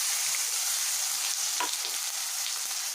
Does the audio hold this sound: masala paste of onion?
yes